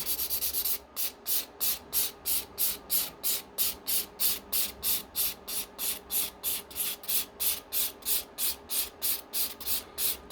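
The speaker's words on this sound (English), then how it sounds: "We're just gonna sand this down." Filler on a Johnny 5 toy model kit being sanded by hand, a close, rhythmic scratching of quick back-and-forth strokes repeated steadily about twice a second.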